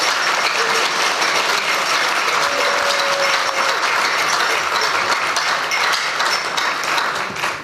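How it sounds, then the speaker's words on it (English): Sustained audience clapping at a football league partnership event, a dense, even wash of applause that holds steady throughout before dropping off at the very end. "Can we clap for the party, please?"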